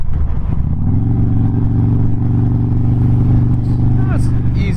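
A 2008 Harley-Davidson Road King with a Twin Cam engine rumbles steadily at a low, throbbing idle-to-cruise pitch, loud and close throughout, with the throttle easing off and a voice talking over it.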